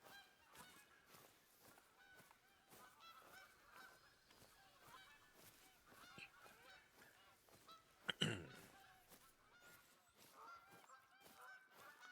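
Geese honking in theHunter: Call of the Wild in the Yukon, a flock calling in repeated rapid honks throughout, fairly distant and faint, with one louder burst partway through.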